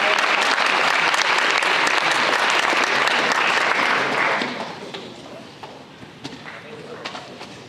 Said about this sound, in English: one last round of applause for Dante Oliver